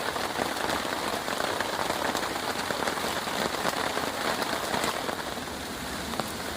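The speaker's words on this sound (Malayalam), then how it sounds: "കണ്ട, സൂപ്പർ മഴയാ." Steady downpour drums on a wild survival camp as evening falls, a thick continuous patter of raindrops striking nearby surfaces, unbroken and close for several seconds with no one talking.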